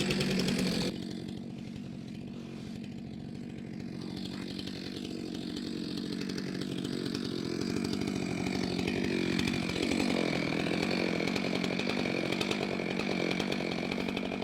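Chainsaw cutting a walnut log into firewood, a loud, steady engine drone running close and continuously throughout, with the pitch shifting as the chain bites into the wood.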